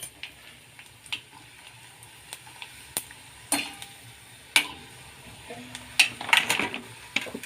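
Sun-dried bajra kharodi fryums dropped into hot oil in a kadhai, with a faint crackling sizzle punctuated by scattered sharp ticks and a few louder clinks toward the end, close up with no talk.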